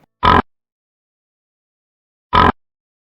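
A voice imitates a pig oinking in two short grunting bursts, well apart, each alone in silence.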